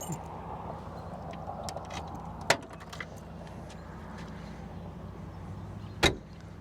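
A 1963 Ford Galaxie 500XL convertible's door shuts with a solid thunk, and a few seconds later a second sharper slam follows, over a quiet, faint background hum.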